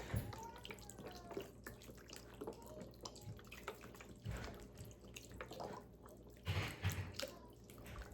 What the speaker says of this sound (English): Now pour the rest of your broth over it.